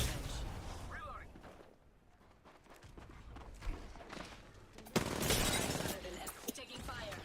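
Rapid bursts of gunfire from a sci-fi shooter video game, sharp crackling volleys that drop away mid-clip and return louder near the end, with voiced callouts sounding over the action.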